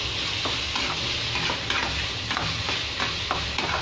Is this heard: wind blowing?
no